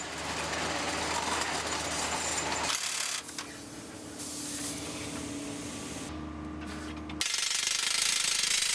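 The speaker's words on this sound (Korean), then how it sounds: "하루 서너 시간 이상 쉬지 않고 들리는 차감기의 소음이다" A crawler drill is boring blast holes in quarry rock, giving a continuous harsh, rattling percussive din. The texture shifts abruptly several times as the drilling changes, and the noise stays loud and steady without voices.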